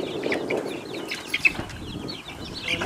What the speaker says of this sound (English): These are soon to be laying hens. We have barred rocks